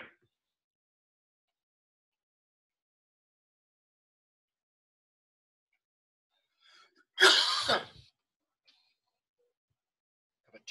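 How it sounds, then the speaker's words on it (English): A single tickly cough bursts out once in an otherwise silent room, short, close and fairly loud, with no talking around it. "I have a terrible tickle cough."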